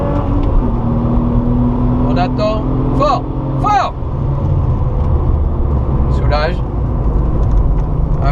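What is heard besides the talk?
Porsche 997 Targa 4S accelerating on a race circuit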